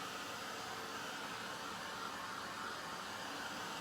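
A dryer blows over a freshly painted chalk stencil project, giving a continuous, even rush of air that stays constant from start to finish, with no voices.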